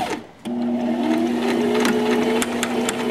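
A sewing machine runs steadily while stitching a collar and facing together, a close continuous mechanical whir with a brief pause and restart near the start, no voices.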